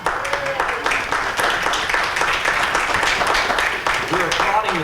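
Audience applause at a church gathering, loud dense clapping from many people filling the room, with voices talking over it throughout.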